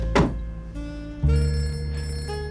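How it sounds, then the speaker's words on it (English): An old-style telephone bell rings in a quiet room, a sharp metallic trill that repeats and then fades into a lingering ringing tone, loud and close, with no one speaking. "I thought briefly about ignoring the phone, but couldn't do it."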